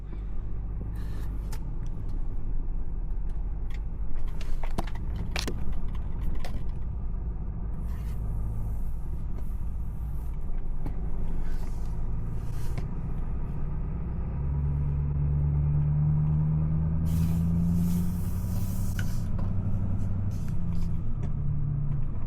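A diesel truck pulls down the road at light throttle, its low engine rumble steady and close throughout, with occasional higher whine and hiss from the drivetrain and brakes.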